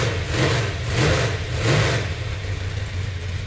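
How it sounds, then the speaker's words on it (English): A Chevy 454 V8 with a big cam idles loudly and close, its lumpy, loping rumble swelling and dipping in a steady uneven rhythm, with no talking over it. "Listen to the thing just sit there and idle."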